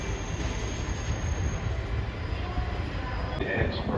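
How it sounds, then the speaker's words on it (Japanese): A JR West 115 series suburban electric train, a converted unit, runs nearby with a continuous loud rumble and broad rail noise that holds steady throughout. "115系近郊型電車改造車です。"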